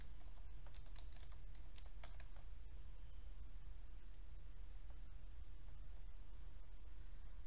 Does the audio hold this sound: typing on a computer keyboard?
yes